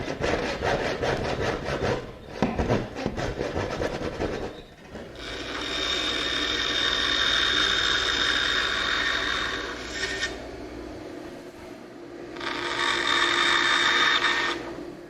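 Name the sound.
handsaw cutting wood corners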